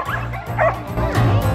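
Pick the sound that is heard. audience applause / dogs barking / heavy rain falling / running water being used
dogs barking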